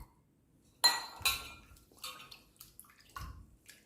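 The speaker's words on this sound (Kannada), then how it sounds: "ಒಂದೂವರೆ ಲೋಟದಷ್ಟು ಅಕ್ಕಿ ತರಿ ಇದ್ದೀನಿ ಇದನ್ನು ಅಷ್ಟೇ ಕ್ಲೀನ್ ಮಾಡಿ ವಾಶ್ ಮಾಡ್ಕೊಳ್ತೀನಿ" Broken rice grits being washed in a vessel, with a few sharp clinks and clatters of grains and utensil against the pot followed by softer scraping and sloshing, close and alone.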